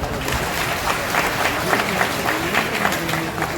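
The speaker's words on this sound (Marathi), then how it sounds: "साहेबांच्या साहेबांच्यासाठी एकदा टाळ्या होत्या" An audience at a political rally claps steadily for a leader. The applause is continuous and fairly loud, with individual claps standing out now and then.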